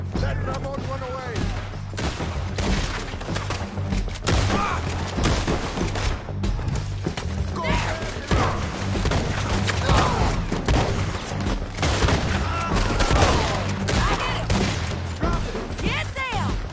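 Artillery barrage in Red Dead Redemption 2 gameplay: repeated booming blasts and gunfire thuds over a dense, noisy battle din, with shouting voices mixed throughout.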